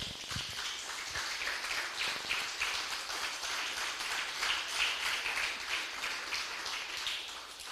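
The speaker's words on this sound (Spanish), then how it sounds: "Denle un fuerte aplauso" A church congregation claps loudly together in sustained, dense applause that holds steady and close throughout, with no speech over it.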